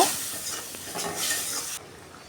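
Ground spice paste of ginger, cumin, coriander and red chilli powder sizzles steadily in a hot pan with potato and water, a close continuous frying hiss with light stirring scrapes, cutting off abruptly near the end.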